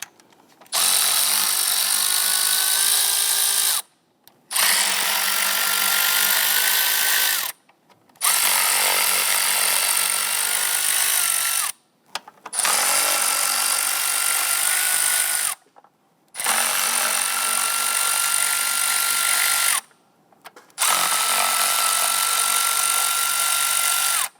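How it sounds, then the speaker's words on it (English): A power tool with a 5/16 socket runs on the upper intake bolts of a 2011-2021 Jeep Grand Cherokee 3.6L V6, giving six loud, steady whirring bursts of about three seconds each, split by short silent pauses. "Using a 5/16 socket, go ahead and loosen the upper intake bolts."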